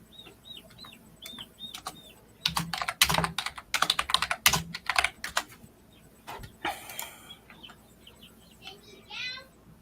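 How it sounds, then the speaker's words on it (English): A loud computer keyboard clatters in rapid, uneven bursts of keystrokes close to the mic, while chicks peep and cheep softly in the background and a voice briefly murmurs. "Sorry, my loud keyboard is being like broadcasted to the mic."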